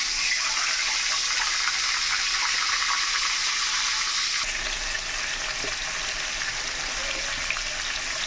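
Cut potatoes fry in hot white oil in a wok, giving a loud, continuous hiss and sizzle that shifts slightly partway through, with no voices.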